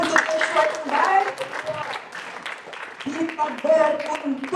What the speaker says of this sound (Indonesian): Tepuk tangan untuk Yeshua yang baik.